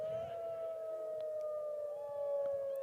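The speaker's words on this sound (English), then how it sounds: "So the noon sirens are going off." A civil defense siren sounds the noon signal over Fort Dodge during a football game, holding one steady distant wail through the whole stretch that rises slightly near the end, with faint crowd noise underneath.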